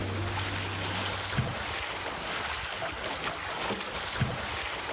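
Sailing dinghy moving through water in a constant breeze under blue skies, steady wash and splash of water with wind noise, occasional light knocks, no talk.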